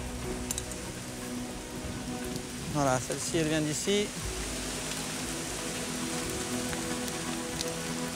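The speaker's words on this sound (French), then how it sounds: "Il commence à pleuvoir, ça va être parfait pour les grenouilles." Rain begins to fall outdoors as a steady, fairly faint hiss that continues throughout, with a voice briefly speaking over it in the middle.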